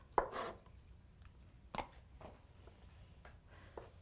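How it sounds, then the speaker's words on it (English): A knife chops on a board in a few scattered, sharp knocks, fairly quiet, with short pauses between cuts. "gonna get on to chopping those beets"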